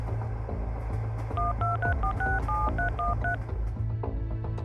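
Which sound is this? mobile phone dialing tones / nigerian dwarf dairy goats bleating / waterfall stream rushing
mobile phone dialing tones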